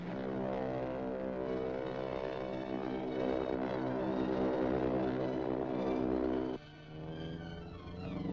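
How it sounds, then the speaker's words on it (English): A propeller airplane engine drones steadily and loudly with a rich, layered harmonic hum, holding close for most of the span before dropping abruptly to a lighter, thinner engine tone near the end. "I can hear the plane coming!"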